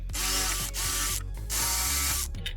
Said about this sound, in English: Now I drill. Again, the slightly larger diameter drill bit for the shank of the screw.